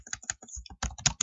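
Rapid keystrokes on a computer keyboard entering a Google search, close and crisp in uneven bursts with brief pauses, no voices.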